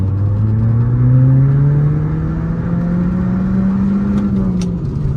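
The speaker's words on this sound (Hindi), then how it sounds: "गाड़ी को थोड़े से लोअर रेफ से एक बार पुल करके मैं आपको दिखाता हूँ" A Skoda Laura accelerates hard in second gear with traction control off, pulling up from around 2000 RPM. The engine note climbs steadily and loudly for several seconds, then eases off briefly at the end.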